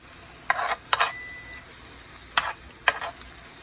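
Seasoned salmon frying in butter in a pan over a raised flame, with a steady sizzle and a few sharp clinks or stirring knocks standing out close by.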